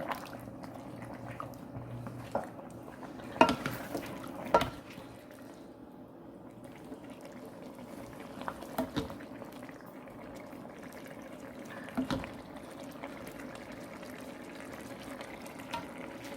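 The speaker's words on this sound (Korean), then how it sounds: "자 제가 그릇에 한번 퍼보겠습니다" Wet liquid sloshing and a few soft clinks as spicy braised chicken stew, dakbokkeumtang, is ladled into a bowl, with a low steady background hum throughout.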